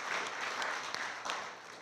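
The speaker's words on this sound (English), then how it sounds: "can we all clap for that?" A steady wash of audience applause at a 2021 high school baccalaureate, many hands clapping together at a constant level, sustained for a couple of seconds with no voices.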